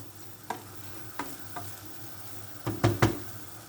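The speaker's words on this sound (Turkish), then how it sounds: "Domates ve biberlerden önce ekliyorum etime soğanları." Meat with onions fries in a pan at moderate volume, a soft steady sizzle broken by several stirring scrapes and clatters, louder near the end.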